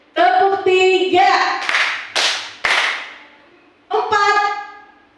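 A group of teachers claps three sharp times in unison during a training session, the crisp claps framed by a leader's spoken calls before and after.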